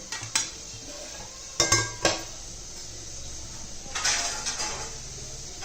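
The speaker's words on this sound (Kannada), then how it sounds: "ಸೊ ಇವಾಗ ನಾನು ಒಂದು ತಟ್ಟೆ ಮುಚ್ಚಿಟ್ಬಿಡ್ತೀನಿ ಎರಡು ನಿಮಿಷಕ್ಕೆ" A plate is set over a pan of onions and beetroot cooking on a low flame, heard as a few sharp ceramic clinks and scrapes against metal, with a faint sizzle underneath.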